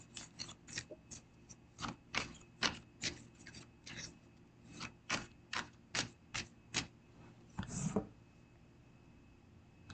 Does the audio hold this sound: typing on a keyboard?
yes